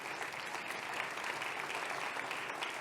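Sustained audience applause at a conference on transatlantic relations, greeting Greek Foreign Minister George Gerapetritis as he comes on stage; dense, even clapping from a large hall throughout, moderately distant.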